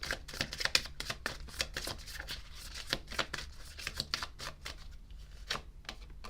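Tarot cards being shuffled, a steady run of crisp, quick riffling snaps repeating for several seconds, close and moderately quiet, with no voices.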